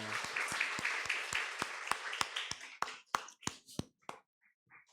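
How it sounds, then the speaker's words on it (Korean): Church congregation applauding during a Korean Sunday worship service, dense sustained clapping that thins into scattered separate claps and fades out near the end. "하나님 영광의 박수 올려드리겠습니다"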